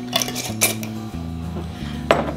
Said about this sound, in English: and put a lid on that.